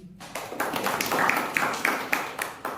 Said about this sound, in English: let's applaud 3 times